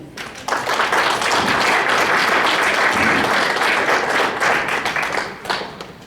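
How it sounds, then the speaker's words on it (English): An audience at a watch-party panel event claps to welcome a panelist, dense applause swelling quickly, holding steady, then tapering with a few last claps. "after I introduce them, you can please clap for each individual."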